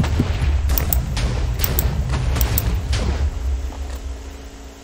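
Small decorative explosions from bullet snowballs landing in a Minecraft survival mod, a rapid scatter of soft popping bursts that thin out toward the end.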